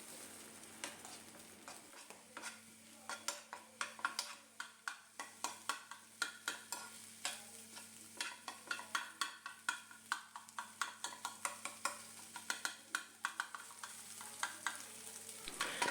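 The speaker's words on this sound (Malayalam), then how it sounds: "മുട്ടയിട്ട് നന്നായിട്ട് ഇളക്കി കൊടുക്കാം." Beaten eggs fry and sizzle in a pan while a utensil stirs them, producing a soft steady sizzle punctuated by regular scraping strokes that grow more frequent and rhythmic, close and fairly quiet.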